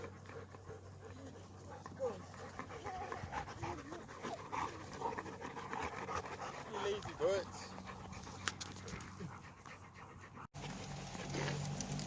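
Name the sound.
nervous dog panting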